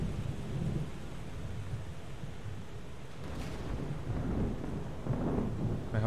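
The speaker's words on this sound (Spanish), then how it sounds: "Tormenta de rayos." Thunderstorm in the video game FAR: Changing Tides: steady heavy rain with deep rolling thunder rumbling throughout, swelling in a louder crack and roll midway, no voices.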